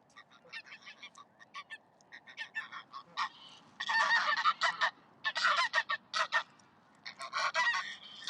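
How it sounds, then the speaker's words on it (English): A flock of geese at a lakeside park honks noisily and nearby, with scattered calls building into dense overlapping bursts of loud honking that come in waves, with no talk. "Got all the noisy geese here now."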